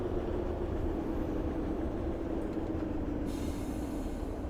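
A Class 156 diesel train in the Train Sim Classic game slows down, a steady low rumble with a faint fading tone and soft hiss, quiet and continuous with no talk.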